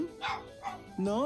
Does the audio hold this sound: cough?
no